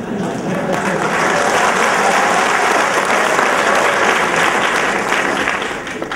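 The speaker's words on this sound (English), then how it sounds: "It looks like from your clapping" Sustained applause from a large audience of college alumni at a building inauguration ceremony, dense steady clapping that fills the room, loud and continuous, tapering slightly at the end.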